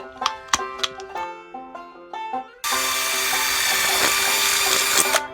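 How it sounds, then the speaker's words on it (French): An electric drill whines steadily at close range while boring holes all the way around a workpiece, after a run of tapping and brief tool noises. "Là, on va venir faire des trous tout le tour."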